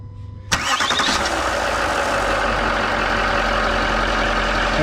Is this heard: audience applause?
no